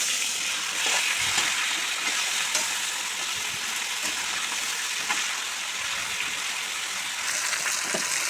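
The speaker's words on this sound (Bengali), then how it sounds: "সব মাথাগুলো কড়ার মধ্যে আমি একটু খুন্তি দিয়ে ভেঙে চড়ে নিচ্ছি।" Katla fish heads fry in a wok while a spatula breaks them apart, giving a constant hiss of hot oil with soft scraping and tapping strokes at irregular intervals.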